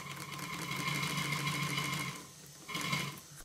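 A model steam engine in a workshop runs fast, giving a rapid, steady mechanical chatter with a tonal whine, close by; it pauses briefly near the end and then resumes.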